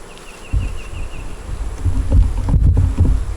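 Honeybees buzz around an open brood box during a hive inspection, a low continuous hum close by with some wind noise mixed in.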